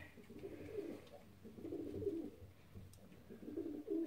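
Pigeons coo repeatedly in a loft housing a blue cock bird with a hen, low throaty calls recurring in soft rolling phrases, fairly near and steady, with no talk over them.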